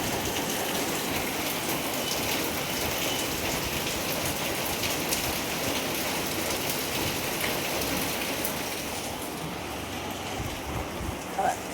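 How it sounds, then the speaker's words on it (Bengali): Heavy rain pours steadily on a morning, a dense, continuous hiss of drops striking surfaces that stays loud and even throughout, with no voices. "ঝমঝম করে বৃষ্টি পড়ছে"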